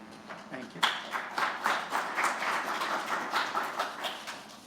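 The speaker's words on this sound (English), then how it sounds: "I hope you all will applaud at least that much at the end of the program as well" An audience breaks into steady applause after a short pause, many hands clapping together at a moderate distance, and the sound continues to the end.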